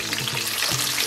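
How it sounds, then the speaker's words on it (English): Food for lamb jollof rice fries in a pan, giving off a dense, close crackling sizzle that stays steady and loud throughout the short moment. "I'm gonna be frying these."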